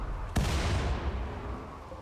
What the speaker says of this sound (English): Destructor cannon, go.